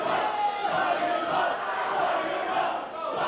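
Wrestling crowd at a death match roaring and cheering continuously, a dense wash of voices at moderate distance with no pauses.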